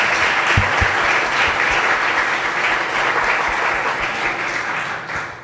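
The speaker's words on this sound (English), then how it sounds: "So I just want to give a round of applause to Kathy" Loud sustained applause from a forum audience fills the room with a continuous wash of clapping, a few low thumps early on, tapering slightly at the end.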